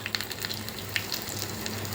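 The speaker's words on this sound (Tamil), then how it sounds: "3 வரமிளகாய் கிள்ளி சேர்த்திக்கலாம்." Dried red chilies and mustard seeds sizzle and crackle in hot oil for a South Indian tempering, a steady close frying hiss with scattered sharp pops.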